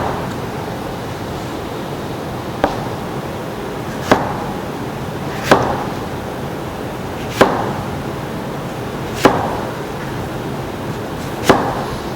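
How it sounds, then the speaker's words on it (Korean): A knife cuts through radish into 1 cm pieces, six distinct chops landing at a slow, uneven pace over a steady hiss of background noise, each cut a crisp close tap. "절반을 잘라 놓고 옆으로 눕혀서 1cm를 계속 썰어 가셔도 됩니다."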